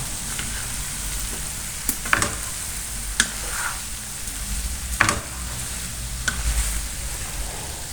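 Soft sizzling in a pan of vegetable pasta sauce with occasional clinks and scrapes of a spoon stirring, sparse and close.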